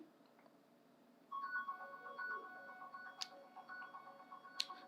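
A smartphone left in silent mode in the next room rings after being triggered remotely by a find-my-device feature, a faint, distant electronic ringtone melody starting partway through after near silence.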